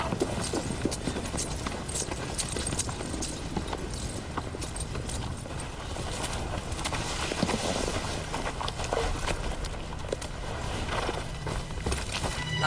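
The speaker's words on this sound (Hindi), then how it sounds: "कुछ घोड़े सवार इस तरफ आ रहे हैं।" Several horses approach with riders, hooves clip-clopping in a dense, continuous patter that stays steady and fairly close throughout.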